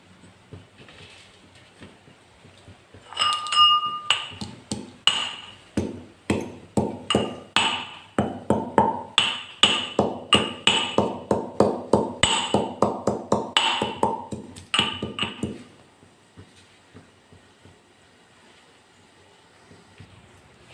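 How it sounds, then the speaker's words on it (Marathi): Spices for masala tea pounded with a pestle, a long run of sharp, evenly spaced metallic strikes close by, steady and rhythmic for about twelve seconds before stopping, with no talking. "हे सगळं आपण कुटून घ्यायचं।"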